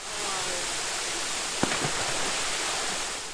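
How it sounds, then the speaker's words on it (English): A waterfall gives a soft, continuous rushing roar from a distance, steady throughout, with one small knock partway through and no talking. "Then we went to go and visit one of Princess Diana's favourite haunts. Yes, beautiful waterfalls."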